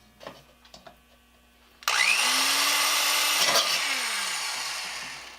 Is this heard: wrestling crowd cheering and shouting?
no